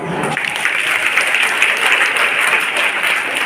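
Children in a Brahma Kumaris school gathering clap together, a dense, steady round of applause filling the room for several seconds after a brief quieter start.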